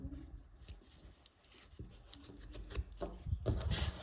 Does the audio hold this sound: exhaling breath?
no